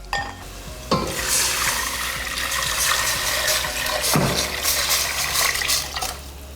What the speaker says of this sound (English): so we're gonna add some water.